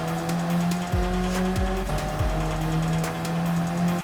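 Alfa Romeo 4C Gr.4 race car in Gran Turismo 7, engine note steady at full throttle, then dipping under braking with brief tire squeal, and revs sweeping back up several times in quick succession.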